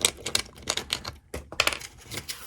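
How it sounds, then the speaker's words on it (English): Thin nickel welding strip for lithium-ion batteries cut by hand, a series of sharp, close snipping clicks in an uneven rhythm with brief pauses between cuts, fairly loud against a quiet background. "All you have to do, you have to cut off a strip here"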